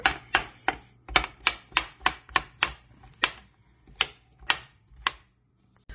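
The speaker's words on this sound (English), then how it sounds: "Next I cut up some mushrooms into smaller pieces." Knife chopping mushrooms into smaller pieces on a cutting board, about a dozen crisp, evenly spaced chops close by that slow slightly toward the end, with no talk.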